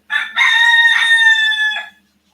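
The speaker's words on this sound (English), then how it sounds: "That's my mindfulness timer right there, that rooster." A rooster crows once, loud and close, in a single sustained call of about two seconds that ends in silence, heard alone during a darkness retreat.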